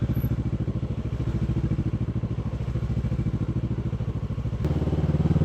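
A Kawasaki ER6n motorcycle rides along on a commute, its steady engine drone loud and close with a regular pulsing throb and wind rush, shifting in pitch briefly near the end.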